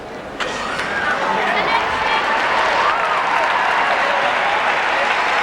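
Arena audience at the 1997 World Figure Skating Championships ladies' short program breaks into sustained applause with cheering, a steady loud wash of clapping that swells and holds throughout.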